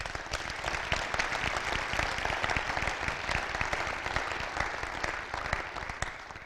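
A crowd at a football championship celebration for the Sailors claps in a steady, dense round of applause lasting several seconds, heard moderately close with no voices over it.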